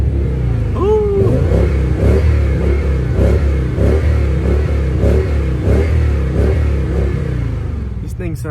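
An Audi 5.2 liter V10 engine, close and loud, idling with a steady rumble and rising in repeated revs, while someone speaks over it.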